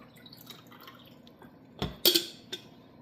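Water going into a coffee maker's reservoir to fill it for a full twelve cups, heard as quiet trickles and a few sharper splashing drips near the end, without speech.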